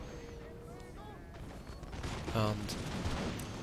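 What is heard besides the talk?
artillery and musket gunfire in a Darthmod Total War video game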